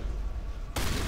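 A shotgun fires in Mass Effect 1 Legendary Edition, a single loud close blast cutting sharply over the steady low rumble of combat.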